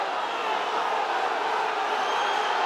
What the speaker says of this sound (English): this home crowd getting restless now